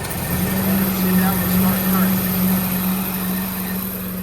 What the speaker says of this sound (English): I'm going to engage the agitator clutch here.